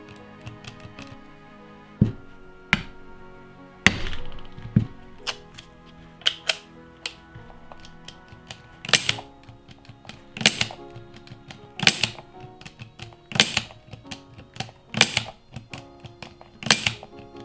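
Sharp metallic taps from a hammer striking a revolver yoke to align it, single blows spaced a second or two apart, close and clear amid small handling clicks.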